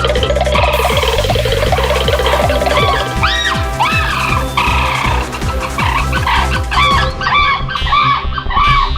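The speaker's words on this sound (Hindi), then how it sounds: "मुर्गा, एक मुर्गा।" A cartoon rooster crows loudly over a dense, busy soundtrack, its rising and falling squawking calls repeated several times across the clip.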